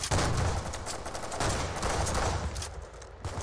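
Rapid, dense gunfire fills a Roblox Arsenal match, with loud overlapping shots and bursts crackling continuously for a few seconds and no voices over them.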